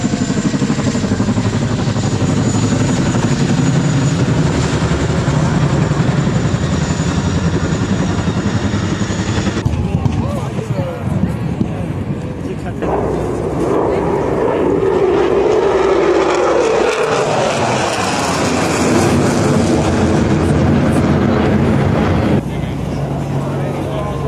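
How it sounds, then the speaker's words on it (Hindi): A commando helicopter drones continuously overhead during Independence Day events in Singapore, loud and steady with rising and falling engine noise, while a person talks beneath it. "यहाँ पे कमांडो का हेलीकॉप्टर जा रहा है ऊपर से."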